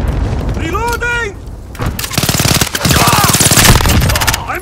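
Rapid automatic gunfire from a Call of Duty: Modern Warfare multiplayer match on the Shoot House map, loud and sustained bursts of shots with booms, mixed with in-game radio chatter and voices.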